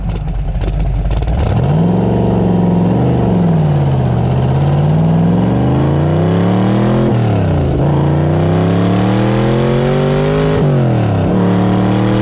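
A 1970s DeTomaso Pantera with a 600-horsepower American V8 pulls out of a junction and accelerates hard, its loud, deep engine note climbing through the gears with brief dips at each shift, close and continuous.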